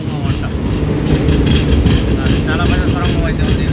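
Garib Rath superfast express train emerging from the long Chellamula tunnel in the Nallamala forest, a loud continuous rumble of rolling wheels and carriages with steady wind roar throughout, heard from on board.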